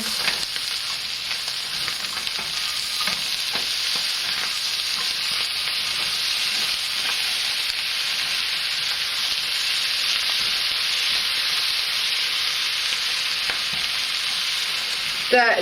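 Potatoes and parsley fry in a pan, giving a steady, loud sizzle with bright hiss, while light scraping of stirring runs through it, continuous and close-up for the whole stretch.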